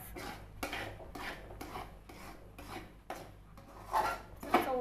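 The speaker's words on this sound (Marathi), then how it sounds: "हे असं सतत ढवळत राहायचं." Mung dal halwa being stirred continuously in a pan, a series of repeated scraping and rubbing strokes against the metal at a steady rhythm, close and moderately loud, with no talk.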